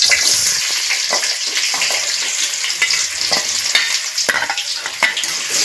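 Chopped onions frying for Maggi after eggs are fried first, a bright continuous sizzle close up with repeated clacking stirs against the pan.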